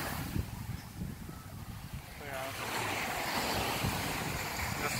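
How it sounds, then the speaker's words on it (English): Waves washing ashore at a popular beach in Grenada beside a small jetty, a steady rushing surf that swells louder midway, with wind buffeting the microphone and faint voices in the background. "This is the most popular beach here in Grenada"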